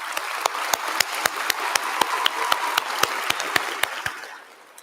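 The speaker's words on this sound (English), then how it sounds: "Please join me in giving him another round of applause." A commencement audience applauds, a dense wash of clapping from many hands with sharp nearby claps standing out, steady for several seconds before fading at the end.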